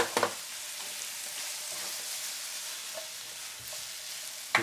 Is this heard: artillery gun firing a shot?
no